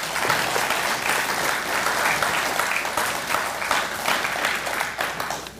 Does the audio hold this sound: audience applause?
yes